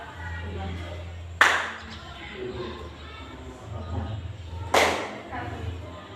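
Two sharp hand claps during a classroom counting game, spaced a few seconds apart, over a low steady hum with faint background voices.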